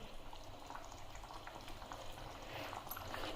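A pot of curry simmers on a gas stove, giving a steady, faint bubbling hiss with small irregular pops, close and continuous with no talking.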